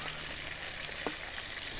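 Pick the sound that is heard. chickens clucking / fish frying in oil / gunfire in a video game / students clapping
fish frying in oil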